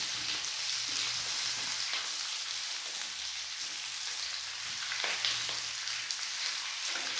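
Mixed vegetable pickle sizzles and crackles steadily in a pan over a medium flame, a continuous bright hiss with occasional soft pops and stirring scrapes.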